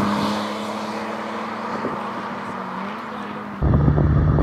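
BMW E46 325i on a cooldown lap at Toronto Motorsport Park, a steady in-car engine drone with wind noise, then a sudden louder surge of engine and rumble near the end.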